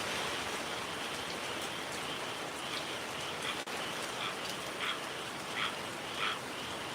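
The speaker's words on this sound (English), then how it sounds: "It's rain and it's wind." Steady heavy rain and wind during Hurricane Milton, a dense constant hiss with scattered louder gusts and droplet patters, close and unbroken throughout.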